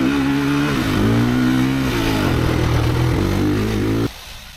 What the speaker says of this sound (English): this motorcycle pulls incredibly smoothly